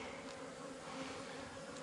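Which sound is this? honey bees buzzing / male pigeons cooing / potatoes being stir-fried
honey bees buzzing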